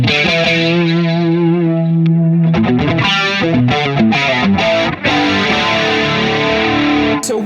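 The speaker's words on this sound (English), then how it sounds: "This is my favorite Strat neck ever. Let's hear it with some" A heavily distorted James Tyler Studio Elite HDX electric guitar plays loud sustained chords, then choppy rhythmic strums with fuzzy, saturated tone and no voices.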